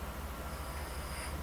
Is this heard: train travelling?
yes